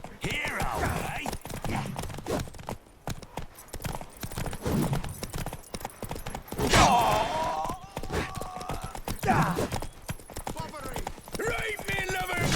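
Rhythmic galloping hoofbeats with occasional whinnies from the video game The Witcher 3: Wild Hunt, while someone talks over them.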